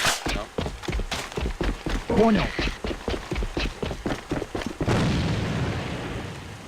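A flash grenade bursts during a first-person shooter match: a sharp blast followed by a sustained hissing wash of noise, after a stretch of rapid gunfire, with someone talking over the game.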